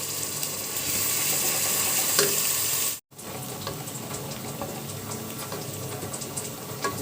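Onion frying in a pan, a steady broadband sizzle that holds through the whole stretch, briefly cutting out for an instant midway before resuming just as loud and close.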